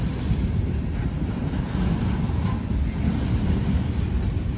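A train rolls past steadily in the open, a continuous broad rumble and rattle of rail cars with wind buffeting the microphone, no voices over it.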